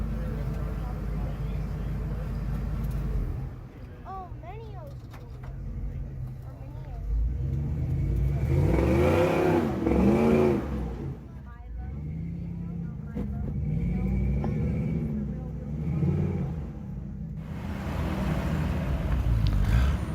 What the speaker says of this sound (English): This is Steve Maxfield's big Dodge Durango trying to go up Minlow's Choice.